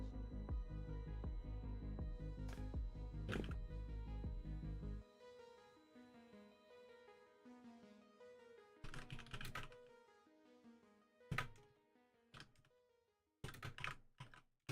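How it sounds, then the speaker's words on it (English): Clicks from a computer keyboard being typed on, in irregular bursts of keystrokes, close and fairly crisp over a low hum that drops away after a few seconds, with no talking. "God, I can't type. Bloody hell. My keyboard's not in the right position."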